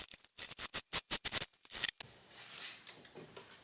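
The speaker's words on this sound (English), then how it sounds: "I just trim off a little on that corner just to kind of reduce the bulk" Fabric scissors trimming the corner of a sewn tote bag: a quick run of about ten crisp, close snips in a steady rhythm, followed by a softer rustle of cloth being handled.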